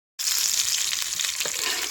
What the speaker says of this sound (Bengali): উনানের আচটা কম রেখে পাঁচ থেকে সাত মিনিট ধরে মাছ ভাজে নিছি